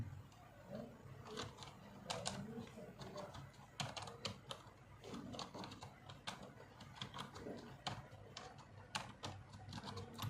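Fast typing on a computer keyboard, quiet and close, with dense irregular key clicks running throughout and no speech.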